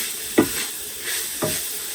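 Ground beef and onions sizzle steadily in a pan with a soft hiss, broken by two scraping stirs of a utensil, close and alone without talk.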